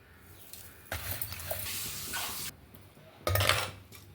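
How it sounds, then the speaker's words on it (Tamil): Boiled cabbage is mashed by hand in a clay pot in a village kitchen, making close, irregular scraping and thudding bursts of churning with short pauses between strokes. "வேக வச்சதெல்லாம் சட்டிக்கு மாற்றி கடைஞ்சிக்கலாங்க"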